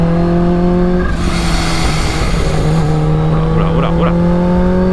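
A Kawasaki H2 motorcycle rumbles with a steady low engine drone and strong harmonic tones, rising briefly as it accelerates partway through, with someone talking over the engine.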